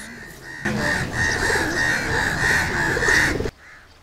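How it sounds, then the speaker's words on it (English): House crows caw repeatedly in a loud, close burst lasting a few seconds, harsh overlapping calls over background noise that then cuts off abruptly. "Instead, we see lots of house crows."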